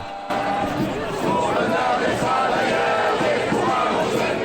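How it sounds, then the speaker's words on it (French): A large crowd of strike protesters marches in a procession in Lille in front of the Lille Flandre station, producing a loud continuous roar of voices and chanting. "Cortège qui est maintenant devant le parvis de la gare Lille Flandre et qui se fait bien entendre."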